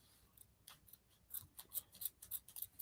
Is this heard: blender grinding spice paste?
no